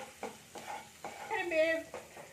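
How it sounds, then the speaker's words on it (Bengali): Ground spices are stirred through hot oil in a pan, giving a soft sizzle under a few rhythmic scraping strokes of a spatula, close and fairly quiet, with a brief brighter clatter in the middle. "এখানে আমি এবার তেলের সাথে ভালো করে মিশিয়ে নিচ্ছি। এইটা আমি একটু ভেজে নেবো।"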